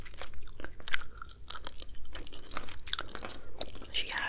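Close, wet gum chewing with rapid clicks and smacks in an irregular rhythm, intense and steady throughout, recorded intimately in an ASMR style with no talking.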